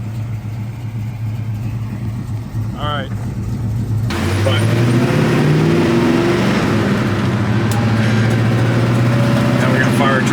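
Classic car engine on the move, a low rumble that swells into a louder, rising drone as it accelerates while cruising, close and steady with someone talking over it.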